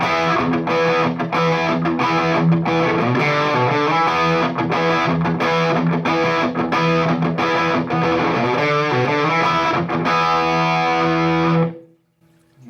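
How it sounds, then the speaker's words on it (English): Electric guitar played through an amp set to crunchy rather than fully distorted gain, giving a continuous rhythmic classic-rock riff that is loud and up close for about twelve seconds before stopping abruptly. "You can turn that down a little bit, get more crunch than distortion"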